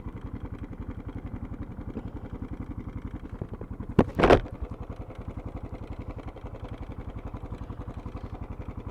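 Motorcycle riding sound captured for motovlogging with an iPhone microphone and a GoPro, the engine holding a steady pulsing drone throughout, with a brief louder burst of clatter or wind near the middle.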